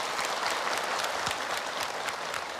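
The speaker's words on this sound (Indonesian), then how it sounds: "Tepuk tangan" A studio audience at an Indonesian religious talk show breaks into applause, dense continuous clapping heard close and moderately loud throughout, with no talk over it.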